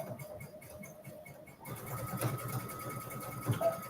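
A home sewing machine set for zigzag stitching starts with a soft ticking idle, then runs into a steady whirring, rattling stitch, close and fairly quiet.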